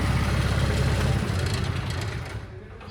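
A 52 hp 4x4 Arjun Novo tractor's diesel engine, a 2019 model, idles with a steady low rumble close by. It eases off slightly toward the end.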